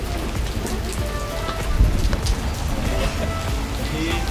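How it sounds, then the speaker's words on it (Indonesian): Steady rain patters on surfaces throughout, a dense, even hiss with a brief louder swell midway, outdoors near a roadside eatery. "Hujan."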